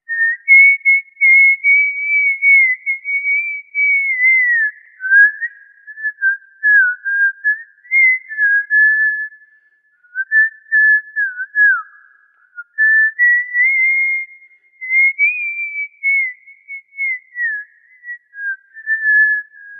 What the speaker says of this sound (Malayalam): വിസിലടിച്ചു പാടുമ്പോഴുള്ള രസം, കൗതുകം തിരിച്ചറിഞ്ഞാണ് അതങ്ങ് ശീലമാക്കിയത്